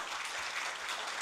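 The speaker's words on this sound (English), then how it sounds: "I want to request you to give another applause" Conference audience applauding at the close of a session of speeches, a steady wash of clapping held at an even level for the whole moment, moderately distant.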